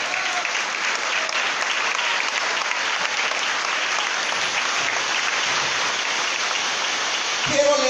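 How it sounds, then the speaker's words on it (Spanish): A church congregation claps loudly and steadily at a Spanish-language service, a dense, even wash of applause that holds for several seconds before ending abruptly. "Den un fuerte aplauso al Señor"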